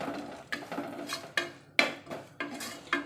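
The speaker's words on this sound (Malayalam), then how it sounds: "നമുക്ക് പച്ചമണം മാറുന്നവരെ ജസ്റ്റ് ഒന്ന് ഇളക്കി കൊടുക്കാം" Spice powder being stirred in a pan for green bean curry, about six sharp metallic spoon scrapes and clinks against the pan at a steady pace, close and distinct with little sizzle.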